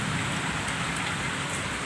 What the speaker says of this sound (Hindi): कितनी तेज़ बारिश हो रही।